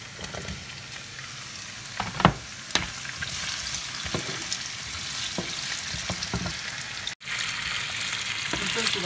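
Potatoes dropping into hot olive oil in a pan, frying with a steady sizzle and occasional stirring clatter, close and moderately loud with no talk.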